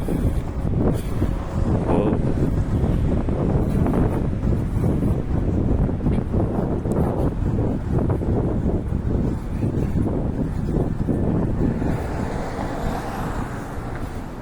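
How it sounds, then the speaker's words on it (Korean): Strong wind buffeting the microphone outdoors in Toronto, a loud, continuous rumbling roar with traffic noise mixed in and a voice talking over it. "벌써 바람이 좀 불기 시작하네요"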